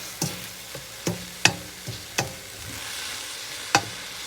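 Seasoned fish coated with Old Bay and garlic salt is mixed by hand in a bowl, giving a series of separate sharp clacks and knocks spaced irregularly over a quiet background.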